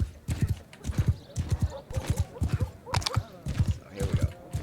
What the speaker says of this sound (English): our horse is fast and strong